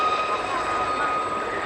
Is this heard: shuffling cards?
no